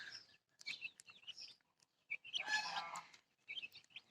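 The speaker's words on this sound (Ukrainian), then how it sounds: "Ці курчатка в мені втора партія так швидко виросли" Young chicks of a second batch chirp in quick, high bursts close by in a village yard, the peeping coming in several clusters with short pauses between them.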